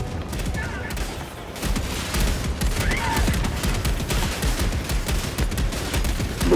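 Gunfire in the co-op shooter Helldivers 2 rattles in dense, sustained bursts at close range, growing louder partway through, with voices faintly present under the shooting.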